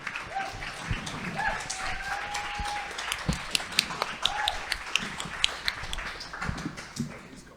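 An audience at a talk event claps and cheers for Silky Shah. Sparse, fairly faint claps patter steadily, with a few whoops rising above them and no talking.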